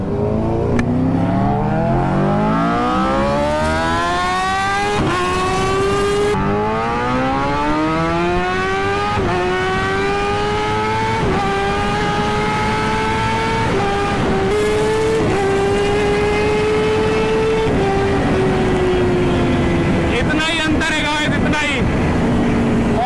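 A superbike accelerates hard in first gear, its engine note climbing through several rising revs and gear shifts in a loud, close, sustained roar.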